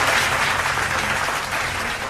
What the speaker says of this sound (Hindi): आप सबकी तालियों के बीच बहुत बहुत स्वागत है